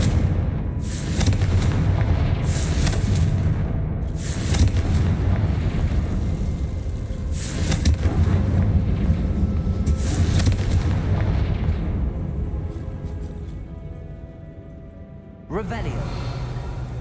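Confringo fire curse blasts from Hogwarts Legacy boom repeatedly in heavy bursts over a rumbling, wind-like game backdrop, with a final sharp hit near the end; game voices are heard along the way.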